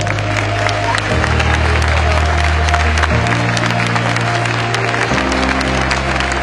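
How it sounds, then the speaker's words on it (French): Crowd applause rings out at a mayor's New Year wishes ceremony in Cavalaire, dense steady clapping under a sustained musical backing that shifts chords every couple of seconds. "On peut les applaudir car vous imaginez que pour eux c'est un peu difficile."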